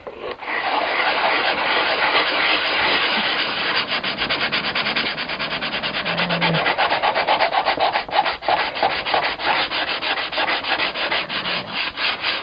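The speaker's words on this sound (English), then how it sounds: "I don't want to sand too much on this because it's all molded." Sandpaper of 320 grit rubs across a molded model-aircraft wingtip, a continuous close scratchy scrubbing that turns into quicker, choppier strokes in the second half.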